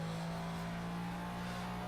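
McLaren F1 supercar engine in the racing game Project CARS, a steady sustained drone held at a constant pitch, loud and close, with no talk over it.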